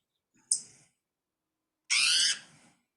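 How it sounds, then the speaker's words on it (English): A wild bird in Nevada gives its cat-like mew call: a brief thin note, then after a pause a louder, longer nasal mewing squawk, close by in otherwise quiet surroundings. "My favorite call is this mew call."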